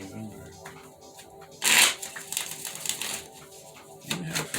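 Tarot cards shuffled by hand in a repeated riffling and sliding pattern with one loud burst near the start, close and fairly clear over a quiet room.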